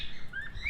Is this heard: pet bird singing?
yes